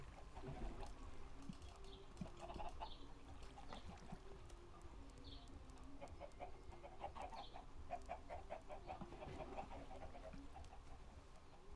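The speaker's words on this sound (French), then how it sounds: "J'entends des poules." Faint chickens clucking in a Minecraft game in scattered bursts over a low steady background hum, distant and quiet.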